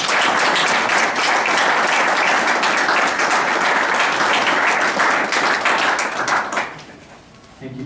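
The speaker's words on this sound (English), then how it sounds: "So, please give a round of applause." Steady, loud applause from a city council meeting audience honoring the Kiwanis Club for a community project, a dense wash of many hands sustained for several seconds before tapering off sharply.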